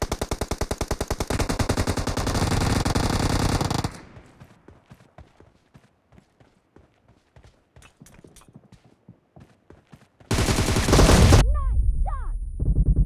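Gunfire in an online shooter video game: a loud, dense automatic burst, then a stretch of scattered quieter shots and clicks, then another sudden loud sustained volley, all close and harsh.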